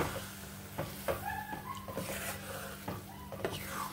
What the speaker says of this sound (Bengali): ভালো করে নেড়ে দিচ্ছি।